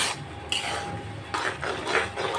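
A spoon stirs green chilli pickle in a pan, making close scraping and rubbing strokes in irregular bursts over a couple of seconds, with no talking.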